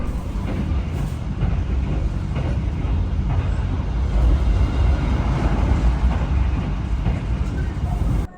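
Steady rumble of the Brawijaya train running on the Jakarta–Malang line, heard from inside the carriage, a constant loud low-frequency roar with faint clatter throughout and no talk.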